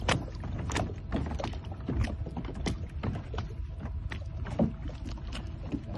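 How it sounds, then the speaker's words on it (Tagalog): A pedal kayak moves on the water off World Island, Dubai, with steady churning and splashing and faint mechanical knocks from the pedal drive, close and continuous with no talking. "susubok sa aming kayak para po masabi ng aming manager kung gumagana yung pedal o hindi"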